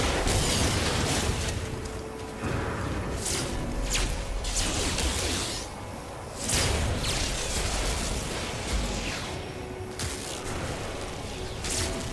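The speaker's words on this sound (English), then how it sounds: "Way underestimated how far that plasma grenade was going to roll." A plasma grenade in No Man's Sky goes off in a string of booming blasts and whooshing bursts across several seconds, loud and close, with no talk over it.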